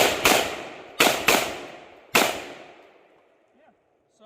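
Three sharp gunshots from an IWI Tavor bullpup rifle, the first two each doubled in quick succession and the third a single shot, every report loud and close with a ringing decay, followed by near silence and faint handling noise.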